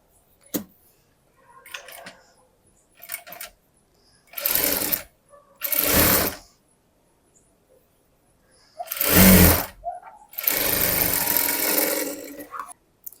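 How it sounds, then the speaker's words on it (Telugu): A sewing machine runs in short close bursts as it stitches a blouse, separated by quiet gaps and a few faint clicks, with the final burst lasting several seconds. "మళ్ళీ దీనిపైన ఒక డబుల్ స్టిచ్ వేసుకోవాలి."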